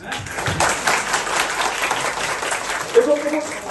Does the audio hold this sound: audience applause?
yes